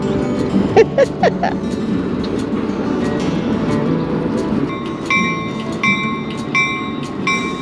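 A trolley's motor hums and rumbles steadily, chugging, with a few clanking hits early and a repeated ringing bell-like tone chiming in the latter half.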